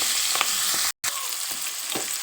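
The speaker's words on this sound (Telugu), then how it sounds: "పచ్చిమిరపకాయ ముందు మీరు వేసేటప్పుడు ప్లేట్ పెట్టుకోండి లేదంటే తూరిపోతాయి" Green chillies spluttering in hot oil for a raw banana curry, a loud close sizzle with a few sharp crackles and a brief silent break midway.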